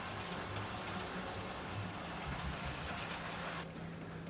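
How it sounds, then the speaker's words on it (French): Roller coaster train running in Planet Coaster, a steady rushing rumble with faint rattling clatter held at an even level throughout, moderately close, with no voices. "Il y a 2 trains sur le coaster pour augmenter la rentabilité."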